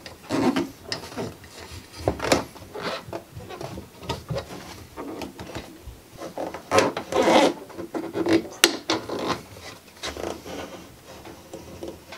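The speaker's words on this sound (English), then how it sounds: "I just used a paint scraper just to line it up in the middle." A paint scraper rasps and scrapes on a 1948 Delta/Rockwell Milwaukee 14-inch band saw, repeated uneven scraping strokes with rubbing in between, close and fairly loud.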